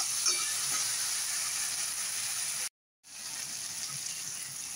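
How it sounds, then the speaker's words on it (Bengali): Water poured into frying spice masala for a fish curry gives a steady, even sizzling hiss. It drops out briefly partway through, then resumes at the same level with no talk. "এটার মধ্যে আমি অল্প করে জল দিয়ে দিচ্ছি। জল দিয়ে আবার একটু কষিয়ে নেব।"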